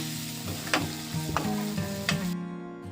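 Ridge gourd frying and being stirred in a pan, with a steady close sizzle and a few sharp scraping stirs at regular intervals, no voices.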